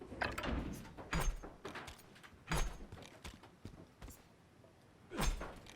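A door being shut in Call of Duty: Modern Warfare (2019), heard as several dull knocking thuds at irregular intervals with game ambience between them and no speech.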